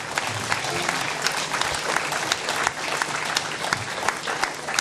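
An audience at a talk gives sustained applause, a dense, even roar of many hands clapping with no talk over it.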